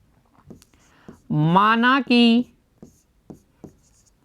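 Someone writes out a Class 10 maths solution on surface-area and volume problems, making scattered short scratchy taps and strokes. A brief spoken voice comes in the middle.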